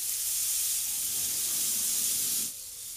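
Diced potatoes sizzle steadily in a hot wok during stir-frying, a close, continuous bright hiss that drops off slightly near the end.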